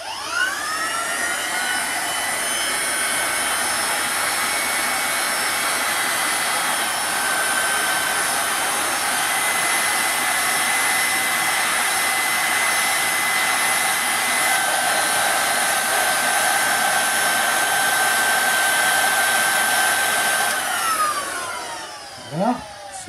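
A heat gun blows steadily to warm the central nut of a MOKI radial engine and loosen its threadlocker, a loud continuous high-pitched whirring roar that holds for about twenty seconds before winding down.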